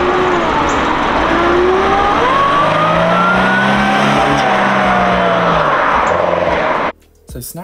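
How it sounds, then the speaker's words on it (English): Supercharged Mercedes-Benz convertible engine revving and pulling hard with a rising supercharger whine over road and wind noise, loud and close throughout, cutting off abruptly near the end. "This car is brilliant and it makes supercharger noises."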